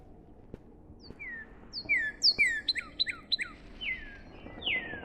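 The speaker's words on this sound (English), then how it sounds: "Oh look, a bird has arrived." Bird chirps in a bird-watching video game: a series of clear, bright descending whistled notes in quick succession, then rapid repeated tweets and a final longer call, fairly near over a quiet ambient background.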